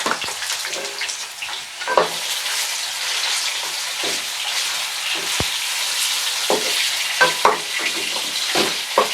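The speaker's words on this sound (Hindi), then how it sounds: "इसको हम हल्का सा फ्राई कर लेंगे आहिस्ता आहिस्ता, मीडियम आंच पर" Chicken frying in hot ghee in a karahi over medium heat, a dense continuous crackling sizzle with occasional clinks and stirs of a utensil.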